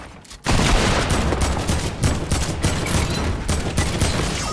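A loud burst of rapid gunfire in Fortnite breaks out after a brief quiet moment, then rattles on as overlapping shots and booms in an unbroken, jittery barrage.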